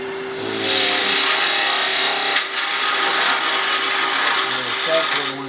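A skew chisel cutting a wooden spindle on a lathe while turning an angel ornament, a loud continuous scraping hiss over the steady motor whine, briefly easing near the middle before resuming.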